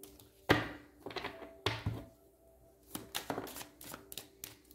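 Tarot cards are shuffled and drawn by hand at close range: quick riffling bursts and soft slaps of cards landing, in irregular clusters with pauses between.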